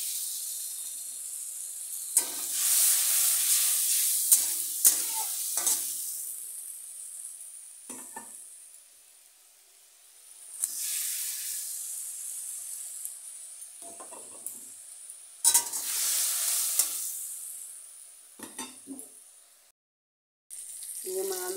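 Potatoes sautéing in a spiced pan with a little water sizzle in bursts, loud hissing surges that rise and fade between quieter stretches, with occasional stirring clatter and brief talk.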